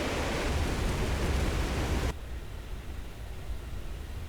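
A Mitsubishi T-2 jet at top speed in the game War Thunder gives a loud, even roar of wind and engine that drops suddenly to a quieter, duller rush halfway through, with no talking.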